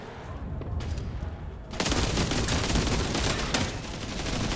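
Gunfire from both sides in the World War Heroes video game, with quieter shots at first, then a sudden loud, dense burst of overlapping rapid fire that keeps going without pause.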